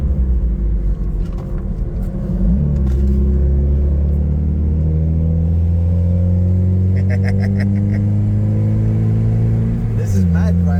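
Mazda MX-5 engine driving the Nürburgring, a steady mid-pitched drone that rises and falls with throttle changes, loud and close throughout with rumbling road noise.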